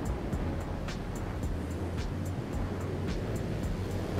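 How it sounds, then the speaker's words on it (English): BN-2 Islander twin-engine plane in Microsoft Flight Simulator, a low steady engine drone held at modest volume under a broad hiss, with faint periodic ticks and no talk. "you hear the engine of the plane out there?"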